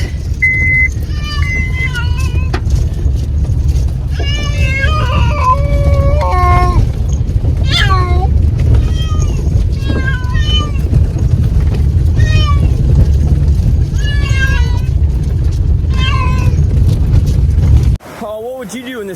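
Several pet cats meowing in a series of short, close, rising and falling cries over a steady low rumble of rushing creek water during a flood evacuation.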